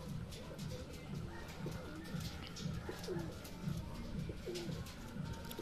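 Racing pigeons returning home after a 94 km training flight in Lumban, Laguna, cooing steadily and close by, with soft overlapping calls and faint chirps against a constant outdoor background.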